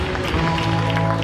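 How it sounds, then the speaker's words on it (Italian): A crowd applauds steadily after a final at a dance competition, dense clapping filling a large hall over a sustained musical backdrop. "Grande applauso per questa finale in pista"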